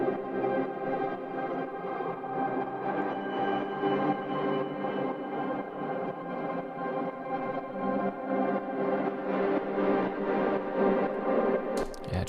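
A fully wet pad texture from the Microcosm's Mosaic preset, built from a running arpeggio, sustains as a dense, shimmering wash of layered tones at a steady level for about twelve seconds, with a brief brighter flicker near the end.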